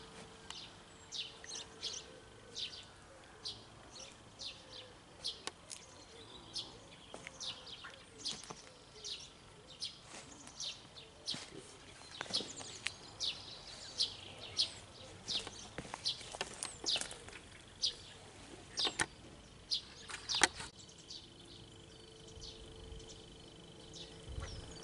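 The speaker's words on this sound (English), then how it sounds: "So the birds are very happy and almost noisy" Birds chirp and call throughout in a busy outdoor chorus, with many short tweets overlapping at moderate distance and no talking.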